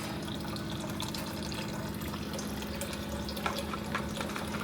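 Water pours in a steady stream into whey protein powder to mix a shake, a continuous splashing flow that stays even from start to finish, with no voices.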